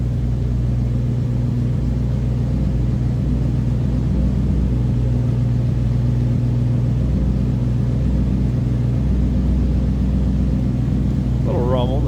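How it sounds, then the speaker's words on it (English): The V8 of a 1958 Pontiac Bonneville two-door hardtop rumbles at a steady idle, its deep throaty exhaust note continuous and close, with a brief voice near the end. "Little rumble, nice deep throaty exhaust note."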